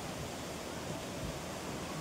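A waterfall at Toranmal gives a faint, steady rush of falling water, an unbroken broadband hiss that stays even for the whole short stretch.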